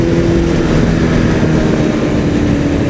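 A Honda CBR 1000RR Fireblade sport motorcycle engine drones steadily and loudly while riding, with a constant low buzzing hum and rough vibration, heard close up with no talking.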